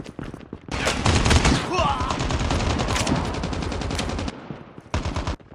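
Rapid automatic gunfire in the mobile shooter game Call of Duty Mobile, dense bursts of close, loud shots with a brief pause before a final burst, and game voice announcements mixed in.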